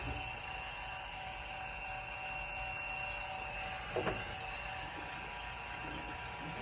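A steady mechanical hum with a constant whine drones without pause from a vacuum pump evacuating the AC system of a Toyota Tacoma after a compressor replacement, with a brief clicking rattle near the middle.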